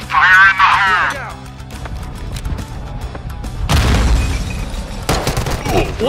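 A grenade explosion in Warzone 2.0, a loud burst with a broad crackling blast and rumble following a shouted voice, amid gunfire and other combat noise.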